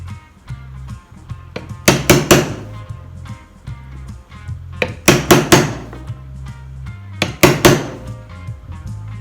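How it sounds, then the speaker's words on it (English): A chisel is struck into a wooden cigar box to cut a mark, producing three groups of sharp, close hammer raps, each a quick cluster of knocks, over a steady low background hum. "where you had a score line, we're going to chisel a mark."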